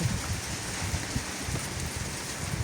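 Steady rain falls as a constant hiss, with soft drops pattering on a nearby surface and no voices.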